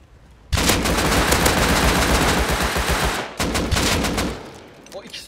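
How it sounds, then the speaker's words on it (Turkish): An AK rifle in the video game Rust sprays a long, loud burst of rapid automatic fire, a brief gap, then a second shorter burst that tails off, with no voices over the shots. "normal AK spreyini atmaya çalıştım"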